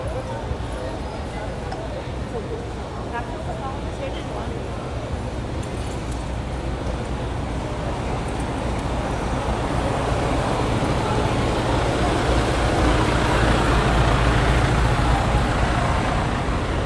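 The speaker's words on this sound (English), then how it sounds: "All these tour buses." Tour buses and other vehicles rumble past in steady street traffic in Venice and Santa Monica, a continuous broad roadway drone that swells slightly louder toward the end, with no clear speech.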